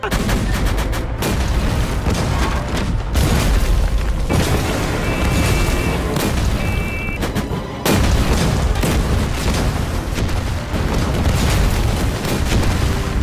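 Loud, continuous booming of heavy cannon fire and explosions, blasts overlapping in a dense, rumbling barrage with no pauses.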